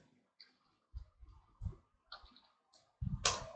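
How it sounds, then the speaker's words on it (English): Scattered light clicks of a computer keyboard while JavaScript code is typed, faint and irregular with short pauses between keystrokes, and a slightly louder burst at the end; no voices. "let's start typing the code into this"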